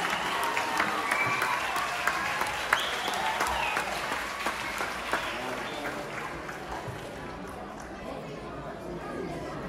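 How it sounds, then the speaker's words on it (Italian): Applause from an audience at a legality day event as children of a comprehensive school go up on stage, moderately loud clapping under crowd chatter, tapering off toward the end. "Un applauso ragazzi"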